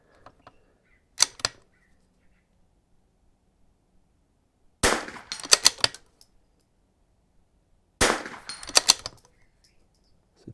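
Three .22 rifle shots fired at an outdoor range, each a sharp crack with quick echo: one lone shot early, then two close doubled bursts several seconds apart, loud against a quiet background.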